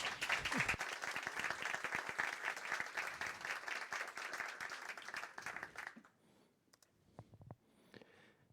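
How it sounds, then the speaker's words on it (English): Audience applause at a conference talk, a burst of clapping from the crowd that rings for about six seconds, then fades to a few scattered, faint claps. "we'll start by giving him a very big applause"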